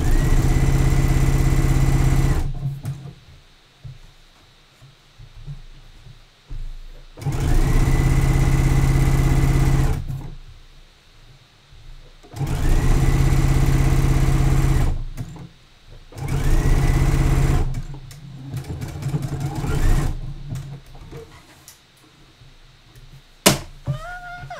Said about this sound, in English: Top stitch the strap too, just so it's more secure.